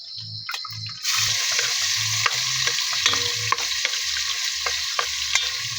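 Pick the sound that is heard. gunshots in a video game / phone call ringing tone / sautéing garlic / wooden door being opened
sautéing garlic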